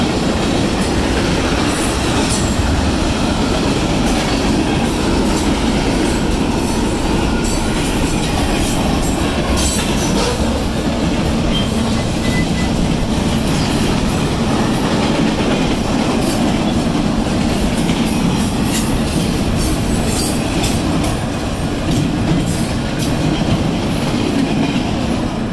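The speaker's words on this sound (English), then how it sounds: "Looks like a bunch of, like, railroad maintenance vehicles." A Union Pacific maintenance-of-way train, led by locomotive 8651, rumbles steadily past close by, with continuous rail noise and faint metallic squeals throughout, no voices.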